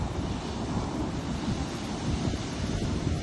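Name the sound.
strong wind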